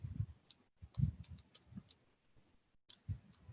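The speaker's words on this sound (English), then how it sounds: "So I'm going to type a website address here." Keys clicking on a computer keyboard while a website address is typed, a quiet irregular run of short taps with brief pauses, close by and alone.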